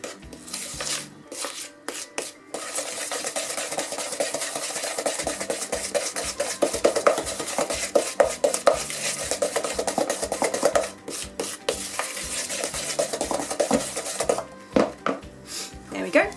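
A wooden spoon beats an egg into creamed butter and sugar for Garibaldi biscuits, giving steady scraping and rubbing strokes against the bowl that run almost continuously, close and fairly loud, with brief pauses at the start and end.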